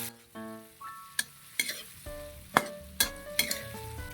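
Sardines frying in oil with garlic, onion and tomato, a soft steady sizzle broken by sharp clinks and scrapes of a utensil stirring the pan at an uneven pace, close and fairly quiet.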